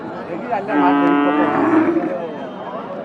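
A cow at a village cattle market in Kurigram gives one long, loud, drawn-out moo up close, lasting over a second, against murmuring crowd noise with people talking faintly around it.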